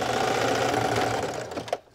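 A home sewing machine stitches a 2.5 inch fabric strap while thrift-flipping vintage clothes, giving a close, fast, even mechanical chatter that slows and stops near the end, with no talking.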